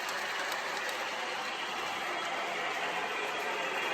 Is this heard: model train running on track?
yes